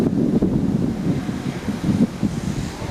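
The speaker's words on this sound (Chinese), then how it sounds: "今仔确实吹起了一阵大风" A strong gust of wind blowing across a hot basin town beside a highway, loud and steady with rushing, buffeting turbulence against the microphone and no voices.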